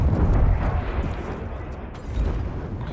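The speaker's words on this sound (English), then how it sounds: "C4 charge up." A C4 charge explodes in Call of Duty: Black Ops Cold War as a loud, rumbling blast that holds its heavy low roar for about three seconds, with a second surge near the end.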